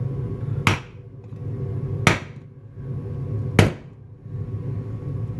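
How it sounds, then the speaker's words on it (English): Three sharp metallic strikes from a very large hammer drive a lower ball joint into a car's suspension knuckle, evenly spaced about a second and a half apart, close and clear over a quiet hum. "Couple good hits with a really big fucking hammer"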